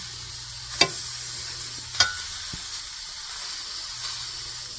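Fish fries in a dry pan, seasoned bits sticking to the surface, with a steady soft sizzle and hiss throughout and a couple of sharp clicks as the pan or fish is stirred.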